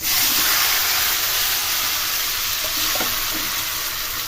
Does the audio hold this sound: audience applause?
no